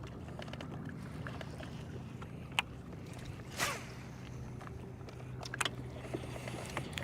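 A fishing boat cruises across a lake during bass fishing, giving a steady low engine drone and hull rumble with wind noise on the microphone and a few faint knocks and splashes.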